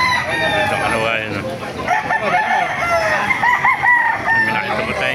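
Roosters crow over and over at a chicken market in Baliuag, with clucking hens and a busy crowd murmur filling the background. The calls overlap one another, loud and close.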